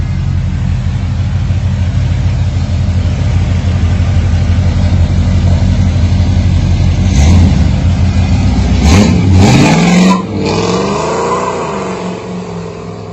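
A finished Camaro with a 4L60 transmission idles loud and close, rumbling steadily, then blips the throttle in several sharp revs near the end before settling back down.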